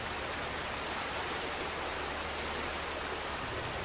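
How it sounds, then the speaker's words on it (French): Steady broadband rush of a waterfall in the video game Darksiders 2, a continuous even roar that stays constant throughout, with no voices. "Y a-t-il quelque chose derrière la cascade ?"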